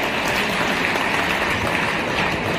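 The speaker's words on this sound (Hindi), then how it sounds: "तो ताली उतनी जोर से बजाओ।" Crowd at a BJP political rally claps in a dense, steady burst of applause, loud and close throughout with no talk over it.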